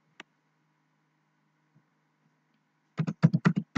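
Someone types a Google search on a computer keyboard: one isolated click, a long quiet pause, then a quick close burst of rapid keystrokes.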